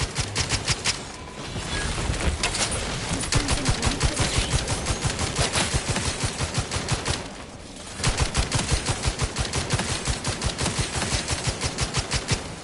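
Sustained gunfire from the video game The Outer Worlds 2, rapid automatic bursts rattling steadily for several seconds, a short pause, then another long loud burst, close and dense with no talk over it.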